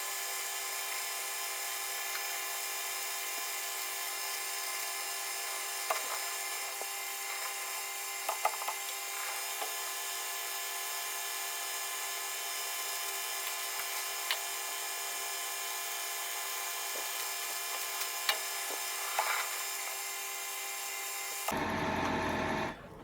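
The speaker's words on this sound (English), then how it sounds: "the lathe does seem to be labouring a little" A lathe cutting a copper workpiece with a shop-made tool makes a steady, continuous machining drone with a few faint scrapes and ticks, the motor labouring slightly throughout, before a brief louder broadband burst at the very end.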